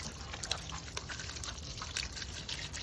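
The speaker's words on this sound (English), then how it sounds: "hammer hose, low water pressure, just rinse it off." Water from a garden hose at low pressure rinses a Pac-Man arcade monitor coated in cleaner, giving a steady, close hiss and splash with small drips throughout.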